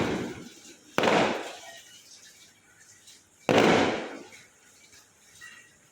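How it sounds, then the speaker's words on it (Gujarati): Two loud firecracker bombs go off at a wedding celebration, the first near one second in and the second around three and a half seconds, each a sharp crack trailing into a crackling decay. "કેવું મસ્તના બમ ફૂટે છે"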